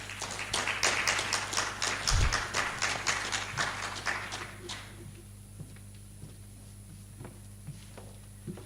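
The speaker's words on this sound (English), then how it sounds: "Please, a round of applause for her." An audience at a civic technology and democracy forum claps loudly for about five seconds, then the applause thins to scattered light claps and taps, with a low steady hum underneath.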